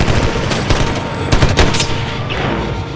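Loud, dense gunfire as a SWAT team shoots back at a robber inside a bank, forming a continuous barrage of overlapping shots without a break.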